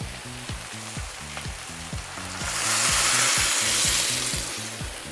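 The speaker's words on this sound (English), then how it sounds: "after putting the celery, give it a quick stir. And then at the same time, we introduce our stock" Celery and stock stirred in a pot for mushroom soup, a steady sizzle that swells loudly midway as the liquid hits the hot pan, then eases back, alone with no talk.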